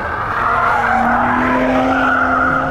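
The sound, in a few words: car sliding with tires skidding on track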